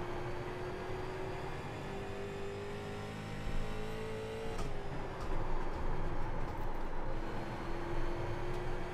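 Race car engine droning steadily in an oval racing game, a sustained high engine tone that dips and builds again, with rushing road noise and a brief impact in the middle.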